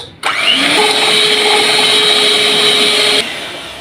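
An electric hand beater whips eggs for cake batter at fast speed, a loud, steady high whirring that runs for about three seconds and then stops.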